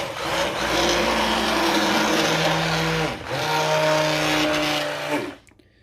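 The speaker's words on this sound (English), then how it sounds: "the next step is you take your stick mixer and you mix it up" A stick mixer blends an olive oil soap mixture, whirring loudly in two steady bursts with a brief dip between them, its motor pitch wavering slightly before cutting off into quiet.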